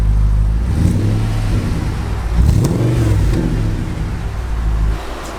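A high-mileage Audi RS4 V8 burbles with a deep, loud, uneven idle just after starting, close up, with a slight rise in revs partway through.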